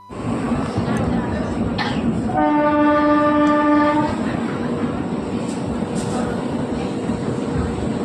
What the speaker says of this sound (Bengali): চল আমাদের ট্রেন এসে গেছে এখন উঠে পড়ি